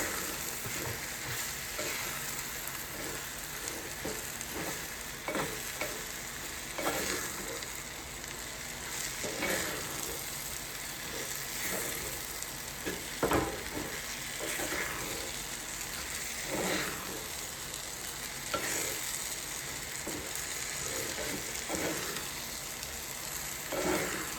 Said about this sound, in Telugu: ఒక్కసారి మష్రూమ్స్ కూడా దీంట్లోనే ఫ్రై చేసుకుని